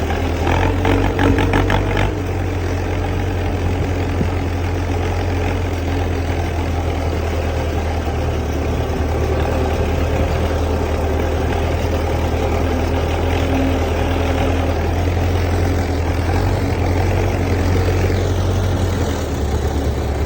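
An MTZ tractor diesel engine, either an MTZ 50 or MTZ 80 on farm work, runs with a steady, loud, close droning rumble throughout, with a brief rattle near the start.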